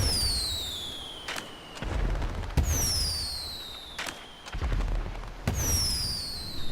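New Year fireworks in Grand Theft Auto V: whistling rockets rise and burst in loud, booming explosions, roughly three cycles of launch whistle and crackling bang over a continuous rumble of distant pops.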